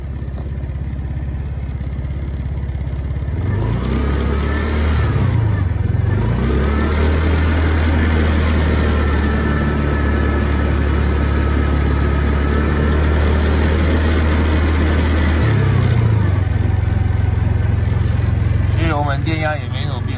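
A motorcycle with a lithium iron phosphate battery idles steadily in 10°C weather, and its engine rises in a few throttle blips early on and again near the end, loud and close.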